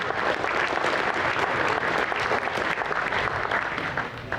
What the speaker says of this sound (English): how about a round of applause for those guys too?